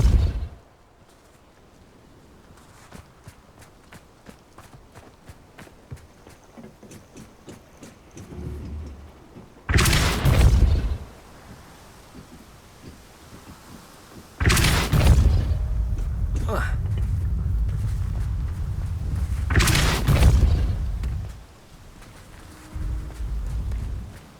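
Repeated Depulso spell casts in Hogwarts Legacy, three loud sharp whooshing bursts with heavy low rumbles between quieter stretches of game ambience and light clicks, a voice speaking at times.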